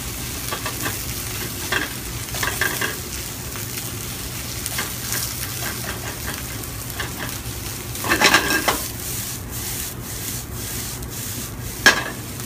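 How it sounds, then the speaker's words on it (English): Steady frying sizzle with scraping stirs of rice in a pan, continuous and close, with a few sharper clinks of the utensil near the end. "Just let everything keep frying up."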